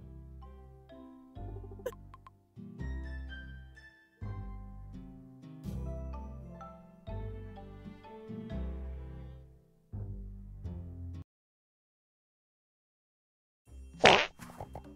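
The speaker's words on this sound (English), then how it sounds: "The sound of our fart redeem is inferior to the exclamation point fart." A fart sound effect triggered by a stream redeem: a short, loud, noisy burst near the end, following a stretch of silence that comes after several bars of background music.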